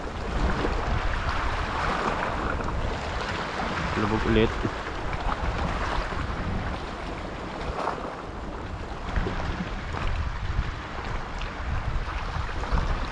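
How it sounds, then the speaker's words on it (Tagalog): Wake waves from a passing fast boat slosh and churn near a fishing spot on the water, a steady rushing wash mixed with wind noise, while someone speaks briefly over it. "Malakas yung alon ng barko."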